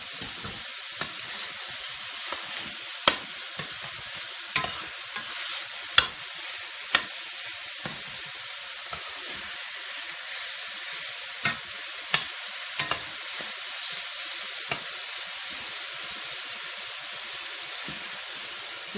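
Mushrooms and meat frying in a pan, kept up with a steady bright sizzle and hiss while a utensil gives frequent sharp scrapes and taps as it stirs, close and continuous, with no speech.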